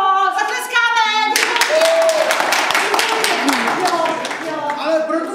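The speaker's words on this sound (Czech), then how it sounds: "Jo, zatleskáme!" A group claps hands together in a brisk, irregular patter, joined by voices singing and talking over it, with a sung tone before the clapping begins.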